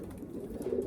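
A racing pigeon hen gives a soft, low coo, close and brief, with nothing else competing.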